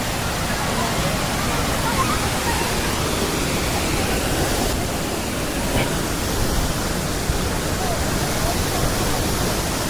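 Majayjay Falls in Laguna pours as a steady, loud broadband rush of falling water, unbroken for the whole stretch, like close-up cascading spray with no gaps.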